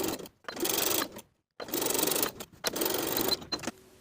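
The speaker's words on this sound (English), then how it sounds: "sew closed the gap in your stitches along the original stitching line" A sewing machine stitches closed the gap along the original seam line of an elastic waistband on a pair of kids' pants, running in three loud close bursts with short pauses between them.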